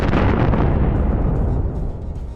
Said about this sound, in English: An explosion occurs, hitting both BMDs at once.